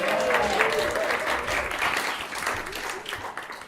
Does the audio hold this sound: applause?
yes